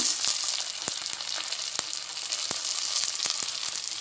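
Mint and coriander leaves sautéing in hot oil for mushroom biryani, a dense close sizzle with sharp spatula scrapes and clicks every half second or so, steady and alone without voices.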